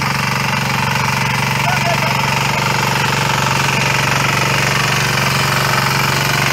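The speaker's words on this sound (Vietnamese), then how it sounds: "Đây là dòng máy dầu 178 có chuyển hướng." A Ristar 178 diesel tiller engine runs loud and steady nearby, a constant rough mechanical drone with fast chugging vibration throughout, with a voice talking over it.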